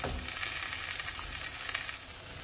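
Beef browning in a large pan on high heat crackles with a dense, continuous sizzle close by, loud and unbroken from start to finish.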